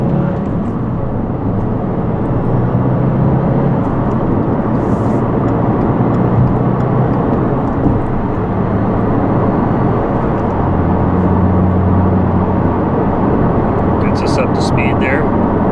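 A 2022 Subaru WRX climbing a mountain pass, its engine and road noise forming a loud, steady drone whose tones shift as it picks up speed.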